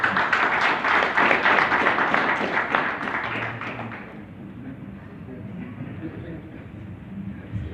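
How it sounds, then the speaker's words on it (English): Applause and clapping from an audience at a cooperatives day gathering on climate action, a dense burst of many hands that holds strongly for about four seconds, then fades into a quieter room murmur. "Can we put the round of applause?"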